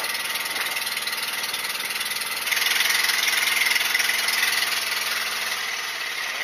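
A steady boat engine idles close by on a king crab fishing boat, its droning hum growing slightly louder partway through and holding even to the end.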